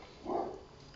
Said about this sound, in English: That's just my dogs barking downstairs.